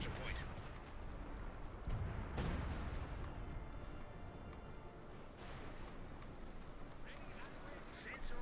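Artillery fire in Company of Heroes 2, repeated booming impacts and scattered gunfire in a dense battle mix, fairly faint, with a commentator talking over it.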